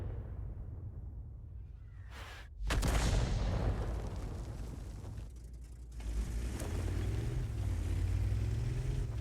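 A Conqueror Gun Carriage artillery piece fires in a tank battle video game, one sudden heavy boom followed by a long rumbling roll and mechanical engine drone, close and loud.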